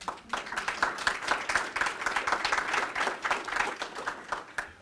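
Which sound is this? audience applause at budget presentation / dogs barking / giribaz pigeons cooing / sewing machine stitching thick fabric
audience applause at budget presentation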